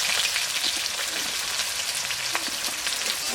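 Whole garam masala, three bay leaves, whole cumin and chopped onions frying in hot oil make a steady, close, loud sizzle with crackling pops throughout, and no one speaks over it.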